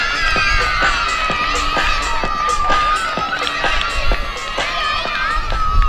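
Children and adults at a school sports day clap loudly for the race winners. The claps are fast and uneven over constant shouting and cheering, with voices nearby.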